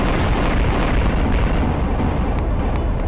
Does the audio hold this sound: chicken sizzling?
no